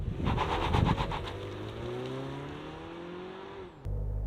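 A 2023 Mazda CX-8 seven-seat SUV launches hard from a standstill in sport mode, its engine droning loud and close with rising pitch through the gears and a brief tire chirp of wheel slip at the start.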